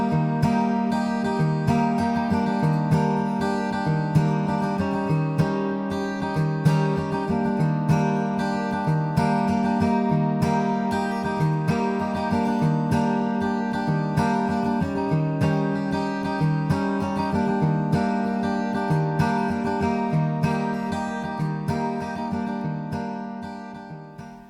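Guitar strumming the chords of a song in a steady, even rhythm to a click at 96 BPM, a continuous close, full-sounding chord pattern with no talking.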